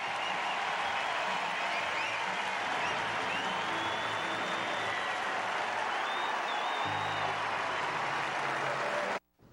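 Sustained stadium crowd applause and cheering at a Cubs home game against the Nationals at Wrigley, a dense steady roar lasting about nine seconds before cutting off abruptly.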